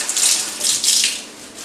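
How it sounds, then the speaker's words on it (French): Water runs from a tap in two loud bursts, splashing as a dishwashing sponge is rinsed under the stream, with no talking. "une éponge que je vais venir rincer"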